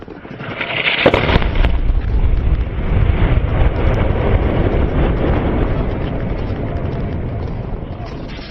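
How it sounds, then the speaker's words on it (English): A large blast from a 500-pound bomb dropped in an F-16 airstrike on a city: a sudden loud boom, then a long dense rumble that rolls on for several seconds. Heard close and alone, with no voices. "The F-16 rolled right over the top of the enemy, dropping a 500-pound bomb right on their heads."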